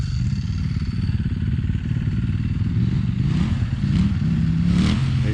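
A dual sport dirt bike engine drones steadily on a dirt track, a loud continuous rumble that swells slightly as the throttle opens toward the end.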